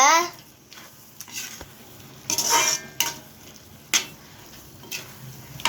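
A spoon scrapes and stirs prawns in coconut milk in a pan for a Tamil prawn thokku, irregular metallic strokes and clinks over a low simmer, loud and close.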